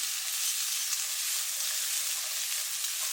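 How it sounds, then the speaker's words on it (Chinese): Sliced onion with black wood ear mushrooms stir-fried in a hot wok gives a steady, bright sizzle, continuous and even with no voices. "洋葱也给倒进来，给它翻炒个30秒。"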